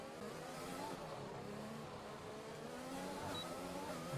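Race car engine in the F1 2021 video game, a steady loud droning whine holding through the run down a hill behind a rival car, with no talk over it.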